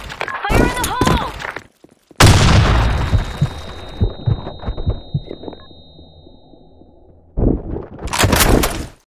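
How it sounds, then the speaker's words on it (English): A grenade detonates in the Blackshot shooter game with a loud, sudden boom that leaves a long, rumbling decay, and a shouted voice is heard before it over game noise. "Grenade! Fire in the hole!"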